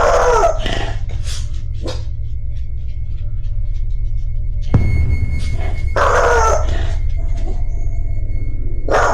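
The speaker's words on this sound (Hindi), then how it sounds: "वो हॉलवे की ओर घूरने लगा और भौंकने लगा।" A dog barks inside a house, several sharp, loud barks in two clusters separated by a steady low hum, with no speech.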